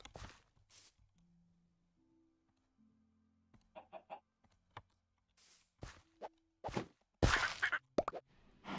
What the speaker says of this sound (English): Yeah, I'm gonna lead chickens.